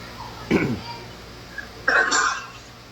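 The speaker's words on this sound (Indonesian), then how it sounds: "Itu orang bersin itu teman-teman." A person sneezes in two short, sharp bursts about a second and a half apart, fairly close, over a quiet background hum.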